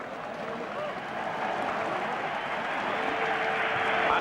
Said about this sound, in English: Anderlecht stand back to applaud West Ham